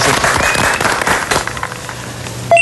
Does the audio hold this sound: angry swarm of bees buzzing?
no